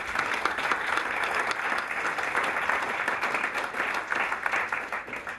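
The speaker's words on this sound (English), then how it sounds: "Give her a round of applause, please." An audience at an award ceremony for the Scottish Land-based and Aquaculture Learner of the Year 2010 applauding a presenter, a dense, steady round of clapping from many hands that holds for several seconds with no talk over it.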